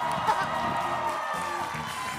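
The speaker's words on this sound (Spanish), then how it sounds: "Un fuerte aplauso para recibir a Mau Nieto" A television studio audience applauds and cheers to welcome comedian Mau Nieto. The crowd noise is moderate and steady for about two seconds, with a few scattered whoops.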